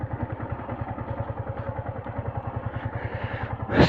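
Motorcycle by the Ganges riverbank, a close, steady engine thumping with an even rhythmic pulse like idling, ending with a sudden loud burst of noise.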